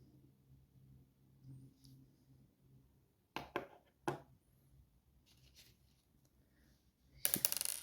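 Small metal lock pins tumble out of a disassembled Lockman MegaCross lock in a few sharp, close clicks and clatters, followed by a louder burst of jingling near the end against a faint background.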